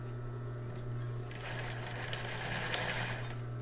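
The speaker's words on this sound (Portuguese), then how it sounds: "Então aqui a gente vai costurar o outro lado." An electric sewing machine stitching fabric for a cake topper, a steady close whirring drone with rapid needle ticking that grows busier partway through, with a voice faintly present.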